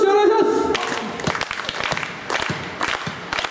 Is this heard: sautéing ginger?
no